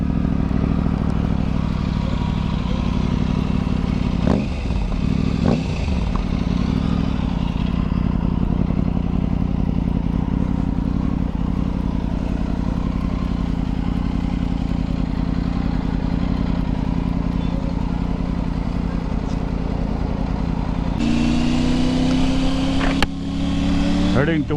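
A Triumph Tiger 900 Rally motorcycle rides along an open road toward Shimoga, its engine droning steadily with constant wind rush, a brief throttle change near the end.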